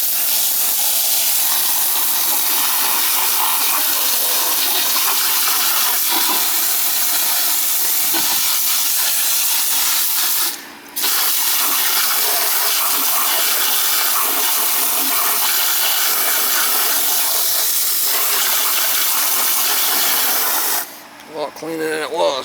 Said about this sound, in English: That's a heat pump.